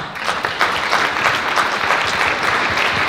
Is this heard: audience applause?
yes